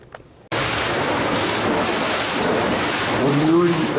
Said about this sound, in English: You can subtly hear it. There's your water dams going.